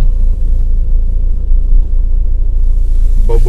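Low, steady engine rumble heard from inside a moving car, loud and continuous with deep bass, plus a faint brief sound near the end.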